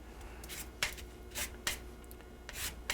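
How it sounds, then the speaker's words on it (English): Lemons being zested on a microplane grater, close-up rasping strokes in a quick back-and-forth rhythm, each short scrape bright and crisp over a quiet kitchen background. "I'm using a microplane grater because when you're zesting,"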